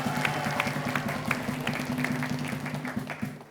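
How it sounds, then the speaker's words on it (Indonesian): A studio audience applauds the three judges on a televised quiz show, a steady wash of clapping over a sustained low musical tone. "Saya mau dengar dulu dong tepuk tangan yang lebih meriah lagi untuk ketiga Dewan Juri kita hari ini."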